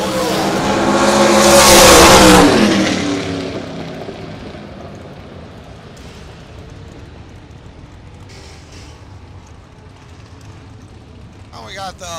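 A carbureted drag racing dragster roars past at an outlaw race meet, a loud engine swelling to a peak then fading into the distance, with crowd and track noise continuing afterward.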